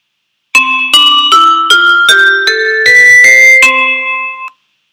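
An eight-note musical scale played for a note-guessing ear-training game: clear, bell-like tones step steadily upward one note at a time, about one every half second, ending on a held final note, loud and with no talk.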